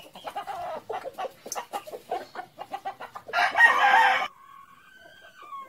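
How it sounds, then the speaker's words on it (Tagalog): Free-range chickens cluck in a rapid, irregular series of short calls close by. A loud, sustained rooster crow then rises above them and trails off into quiet. "Samahan niyo po akong magpakain ng mga free-range chickens ko."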